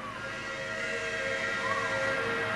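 A train whistle blows in one long, sustained tone at a monster truck event, steady and fairly loud, with a low rumble beneath it.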